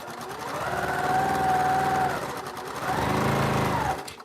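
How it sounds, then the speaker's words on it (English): A sewing machine stitching quilt pieces for a Double Carpenter's Star quilt runs in two close, steady bursts of rapid whirring, with a short slowdown between them. "And I'm sewing that in there."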